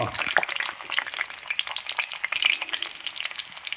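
Ginger pieces sizzle and crackle steadily in hot oil for a Kerala-style chicken stew, with dense popping spatter close up and no voices.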